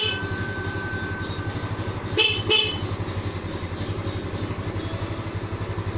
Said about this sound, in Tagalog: Start horn.